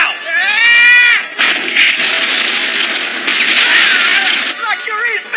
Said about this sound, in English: Gunners, aim your sights at the enemy shells and take them out now!